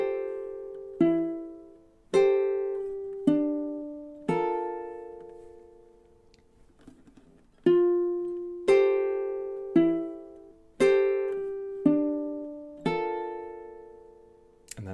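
A ukulele plays the closing phrase of a song, about a dozen clear plucked notes and chords, each ringing and decaying, with a short pause midway, close and alone.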